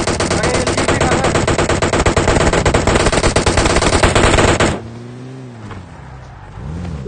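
Loud, rapid automatic gunfire from a multiplayer shooter game, a dense sustained burst lasting several seconds before cutting off abruptly into quieter background sound.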